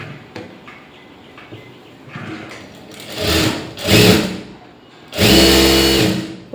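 A sewing machine stitches lining cloth for a blouse in short bursts, a quick rattling mechanical whir that starts and stops, with quiet handling sounds between the runs.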